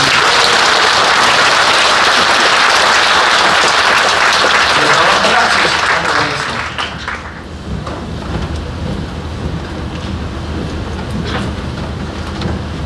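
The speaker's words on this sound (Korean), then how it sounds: "박수로." Loud, dense applause from a church congregation, a full roar of clapping that fills the space for about six seconds before easing into a thinner, quieter patter that continues to the end.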